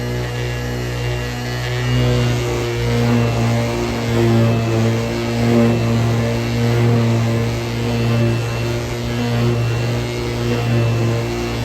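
A power polisher buffing a scraped car bumper runs continuously with a steady loud motor hum and slight rhythmic wavering in pitch, with no talking over it.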